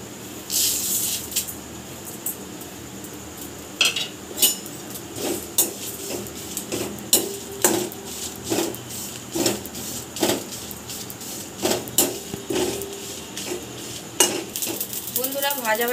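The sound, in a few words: frying spice mix for chutney in a pan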